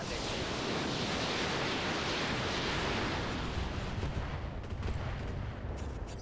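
Mech weapons fire all at once in the BattleTech mod RogueTech during a fight against assault mechs, a loud, dense roar of blasts and rumbling impacts that swells and then slowly tapers off.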